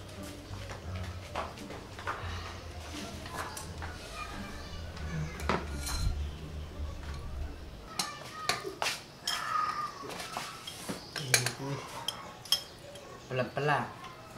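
Plates and cutlery clink and clatter at a home meal during an Indonesian comedy sketch, with scattered sharp clinks through the second half while people talk over them.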